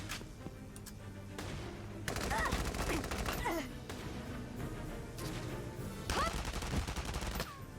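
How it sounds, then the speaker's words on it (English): Gunfire in the video game Valkyria Chronicles 4: dense bursts of shots and impacts fill the clip, loud and close, with a sustained fusillade and a sharper flurry near the end. "Why are you shooting now?"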